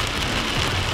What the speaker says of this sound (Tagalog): Konting ulan lang, grabe po.